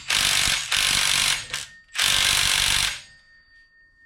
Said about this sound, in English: Let me get a ratchet.